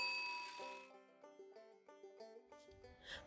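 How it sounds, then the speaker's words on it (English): A bell for a handmade wooden clock chimes in a rhythmic series of clear, ringing tones heard alone, with a brighter metallic jingle at the end. "The bell."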